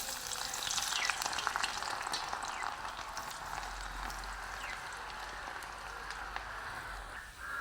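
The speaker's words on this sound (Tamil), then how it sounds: "அடுத்தது வந்து நாங்கள் உள்ளியை பொரிச்சுக்கொள்வோம்." Garlic sizzles and crackles steadily in hot oil while cooking shark sambal, close up, a continuous bright frying hiss with occasional pops and stirring scrapes.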